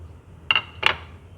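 Seeded grapes dropped into a bowl while making a banana and grape fruit chaat, giving two brief, bright clinks about a third of a second apart against a quiet kitchen background.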